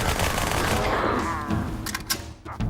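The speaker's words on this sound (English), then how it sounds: "So you walk around with these 2 bullet hoses." Two automatic guns fired at once in the Halo 2 video game, a dense burst of rapid gunfire that fades into a few scattered shots and clatters.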